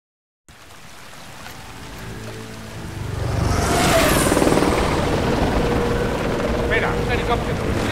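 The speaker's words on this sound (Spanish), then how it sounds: "Espera, un helicóptero." In the video game Medal of Honor Warfighter, a helicopter approaches: a low rumble from a distance swells into a loud, whooshing rotor roar that stays close and constant, with a voice briefly heard.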